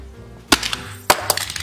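Toy box knocked off a surface falls and hits the floor with two sharp clattering impacts followed by small rattling bounces, close and loud.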